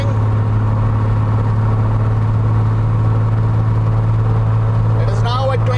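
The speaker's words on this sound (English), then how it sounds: "just observe that I am moving the throttle to full RPM, that is 2700 now" Aircraft engine run up to full throttle at 2700 RPM, a loud, steady droning hum that holds throughout, with a voice talking briefly near the end.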